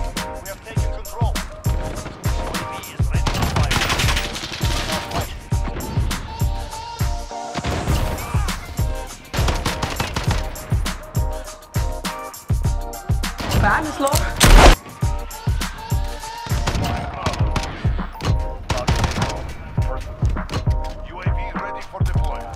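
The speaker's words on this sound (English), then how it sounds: "If I wanted to fire this on full semi-automatic, all I do is keep firing." An FAL rifle fires repeatedly in semi-automatic in Call of Duty: Modern Warfare, a rapid run of sharp cracks mixed with game noise and talking throughout.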